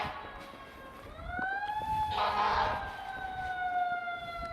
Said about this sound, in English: That's the fire truck.